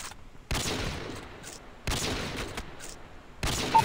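Three sharp sniper shots ring out in Call of Duty Mobile, spaced about a second and a half apart, each with a bright crack and a short decaying tail and no voice over them.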